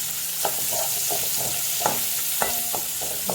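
Sliced shallots and garlic fry in a pan of oil for garlic-pepper rice, a steady sizzle broken by several sharp clinks and scrapes of a spoon stirring against the metal.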